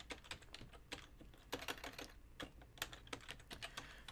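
Quick, irregular keystrokes on a computer keyboard while writing code, soft clicks in uneven bursts and pauses, close and quiet, with no talk.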